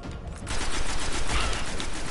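Sustained burst of automatic gunfire in the sci-fi shooter Destiny during a salvage mission, dense and loud, kicking in after a brief quieter lead-in and rattling on steadily with no talk over it.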